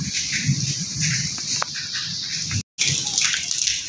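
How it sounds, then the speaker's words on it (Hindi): Heavy rainwater gushes out of a drain pipe from a house roof during a downpour, making a steady rushing, splashing roar up close with a brief dropout partway through. "ए वेख लो पानी सारा बारिश से बहर जा रहा है इस पाइप के जरिए।"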